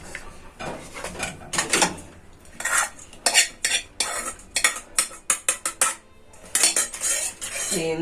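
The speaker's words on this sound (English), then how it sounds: "So you keep stirring now because you want the rice to warm up." Metal spoon scraping and clinking against a pot while stirring cashew nut rice with vegetables, a series of close, irregular scrapes and taps with brief pauses, no talking.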